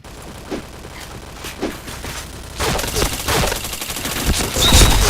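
Dense, rapid gunfire from the video game PointBlank: softer scattered shots at first, then a loud, continuous barrage of overlapping bursts through the rest of the clip.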